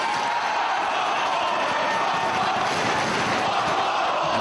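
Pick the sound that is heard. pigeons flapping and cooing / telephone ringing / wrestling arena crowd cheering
wrestling arena crowd cheering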